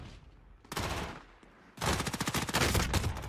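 Video game gunfight with two loud bursts of rapid automatic gunfire, the second longer and heavier, shots close and dense with a brief lull between bursts.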